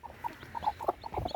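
A farm hen clucks in short, quick bursts, a series of close, faint clucks and throaty notes in an uneven rhythm against a quiet background.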